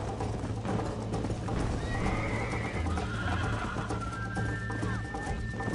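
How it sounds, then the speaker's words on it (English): A horse whinnies loudly over a steady clip-clop of hooves in the video game Red Dead Redemption, with a rumbling background that stays constant throughout. "You're gonna wear that horse out."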